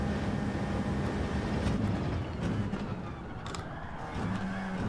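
A race car engine holds 5th gear in Gran Turismo 7, a continuous droning roar that stays steady for the whole stretch, moderately loud with no voices over it.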